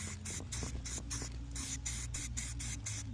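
A can of Krylon Fusion Gloss Hot Pink spray paint fires in about a dozen short, rhythmic hissing bursts outdoors, each spray close and sharp with brief gaps between.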